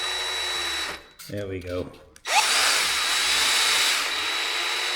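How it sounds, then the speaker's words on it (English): Power drill driving a bolt into a motorcycle helmet holder wall mount, whirring steadily up close for several seconds after a short pause with brief talk. "Let's try to just drill it in."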